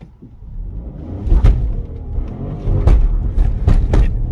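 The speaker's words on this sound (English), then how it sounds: "It was hitting this rev limit thing, and every time it was spinning the tires, it was not allowing it to happen." A Ford Puma rental car engine slamming into the rev limiter while its tires spin, heard as a rumbling engine broken by repeated loud, choppy bursts that stutter faster toward the end.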